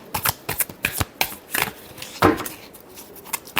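Tarot cards are shuffled by hand in a quick series of crisp riffling bursts, about ten short flurries over a few seconds, close and alone without talk.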